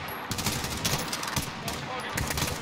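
Rapid automatic gunfire rattles through a Modern Warfare campaign battle, with dense, loud bursts of machine-gun shots running continuously through the short stretch.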